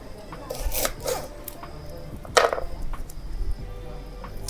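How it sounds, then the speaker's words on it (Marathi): A knife chops an onion on a board in a home kitchen, a few soft, separate cuts at an uneven pace, close by but fairly quiet. "कांदा कापून घेते"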